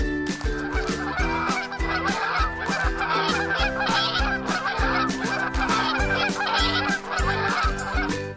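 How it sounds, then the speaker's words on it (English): Geese honk repeatedly in loud, overlapping, rhythmic calls that continue without pause from start to finish, close and clear. "Goose."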